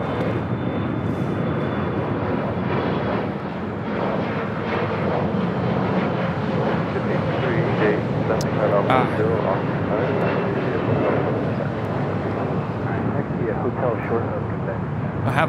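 An airliner departs from LAX with a loud, continuous jet rumble and roar held at an even level throughout. Voices talk intermittently over the engine noise.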